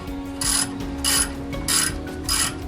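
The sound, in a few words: snugging engine bolts on a 1985 C4 Corvette engine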